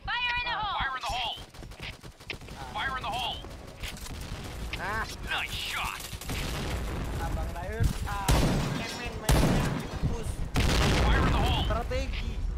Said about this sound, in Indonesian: Bomnya langsung meledak asli.